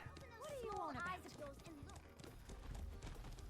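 Horse hooves clip-clopping in the Black Desert Online video game inside a busy city, a steady trotting patter under game music and someone talking.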